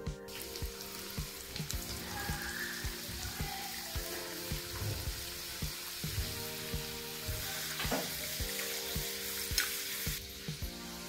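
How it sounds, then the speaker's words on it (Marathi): Sweet modak dumplings deep frying in hot oil, a steady bubbling sizzle with frequent clinks and taps of a utensil against the pan, close and continuous throughout. "आता तेल तापलेलं आहे, आता आपण हे मोदक तळून घेऊ."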